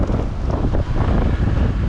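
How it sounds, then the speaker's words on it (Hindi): Heavy waterfall spray pours down beside a mountain road on the route to Adi Kailash, a loud, steady, close rushing and hissing roar that fills the whole moment without pause. "झरने की फुहार बहुत तगड़ी आ रही है यहाँ पर"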